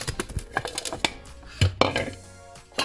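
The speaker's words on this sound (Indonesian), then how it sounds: "Kemudian di paha ayamnya kita cincang kasar ya." A knife coarsely chops chicken thigh on a board in irregular, sharp taps and knocks, with a few louder thuds, up close.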